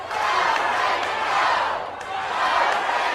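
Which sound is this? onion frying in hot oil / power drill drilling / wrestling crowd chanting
wrestling crowd chanting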